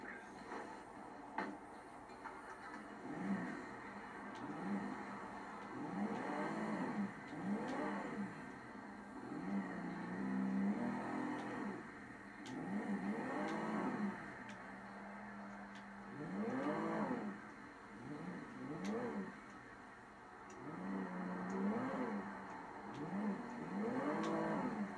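A Vapid Minivan with a V6 engine in a video game, its engine revving repeatedly in rising and falling sweeps over a steady idle, fairly loud and close with no talking.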